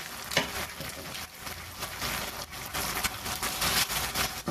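Grated cheddar cheese stirred into macaroni in a hot pan, a busy sizzling hiss with scraping and soft clacking of the spoon in irregular strokes, close and steady for several seconds.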